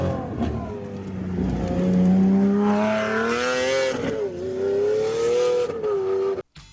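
A Lamborghini SVJ fitted with a Novitec exhaust accelerates hard, its pitch climbing through a couple of gear changes with a loud, rising wail, ending in a sharp cutoff.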